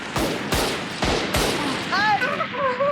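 A Spectre submachine gun fires in the video game Valorant with four loud, sharp, evenly spaced shots, followed by a short wavering voice-like tone.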